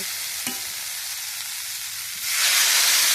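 Spiced mixed vegetables hiss steadily in a hot pan, then water is poured in and the sizzle surges into a loud, bright burst of steam near the end.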